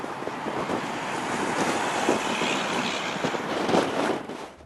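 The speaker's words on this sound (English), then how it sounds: "Wow, this wind is bad." Strong gusting wind at Chicago O'Hare airport roars into the microphone as a loud, continuous broadband rush, swelling and buffeting throughout, with no other sound clearly standing out.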